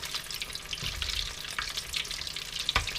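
Steady crackling and bubbling of fried mac and cheese frying in hot oil, with a few brief louder pops and clinks, no voices.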